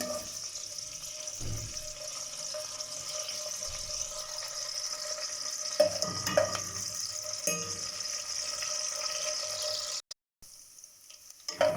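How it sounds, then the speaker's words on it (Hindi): Garlic fries in hot oil in a pan with a steady, even sizzle. A few soft stirring knocks fall in the middle, and the sound cuts out briefly near the end before returning. "लहसुन हमारा हल्का गोल्डन फ्राई हो गया है।"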